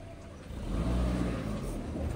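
A vehicle drives into a parking area near cattle calves, its engine making a low, steady rumble that swells slightly, moderately close.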